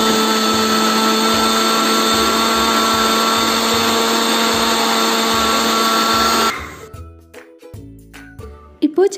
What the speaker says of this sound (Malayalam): എന്നിട്ട് മിക്സിയിൽ നന്നായിട്ടൊന്ന് അടിച്ചെടുക്കാം.